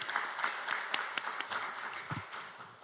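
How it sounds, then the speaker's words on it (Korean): Applause from the audience at an economic forum in Korea welcoming a city mayor to speak, a scattered patter of individual claps, fairly faint and roomy, fading slightly toward the end. "여러분 박수로 청해서 들어보도록 하겠습니다."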